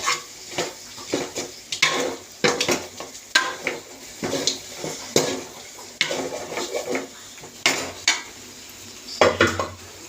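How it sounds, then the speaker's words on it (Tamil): A spoon scrapes and clatters in a pan as masala powder is stirred into mutton gravy, giving irregular repeated metallic knocks and scrapes close up with a faint sizzle underneath. "மசால் பொடியை போட்டு நல்லா இதையும் நல்லா கிளறி விட்டுக்குவோம்"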